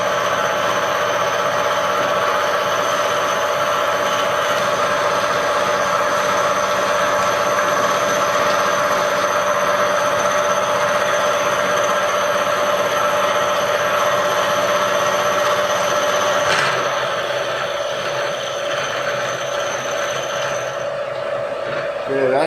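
A manual milling machine takes a cut across metal stock, producing a steady loud mechanical hum with tonal whine that runs throughout, its character shifting slightly near the end.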